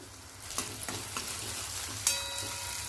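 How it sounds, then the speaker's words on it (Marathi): Chopped onion and two or three dried red chillies frying in hot oil in a pan, a steady low sizzle with a few soft stirring clinks and scrapes close by, no voices. "कांदा आपण छान तांबूस रंगावर असं भाजून घेऊया तेलामध्ये दोन तीन लाल मिरचे टाकायचे"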